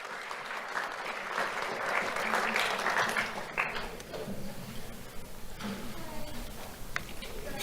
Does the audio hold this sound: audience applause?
yes